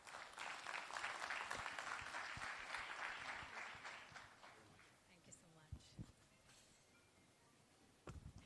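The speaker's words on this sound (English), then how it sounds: "let's hear a big round of applause" Loud applause from a large audience at a technology and innovation fair and partner summit, dense and sustained for several seconds, then thinning out to scattered claps, with a voice speaking over the tail.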